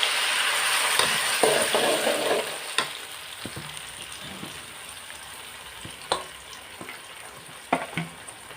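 Ground tomato fries in a pan with a steady hiss, broken by scraping stirs and a few clinks of the spoon against the metal.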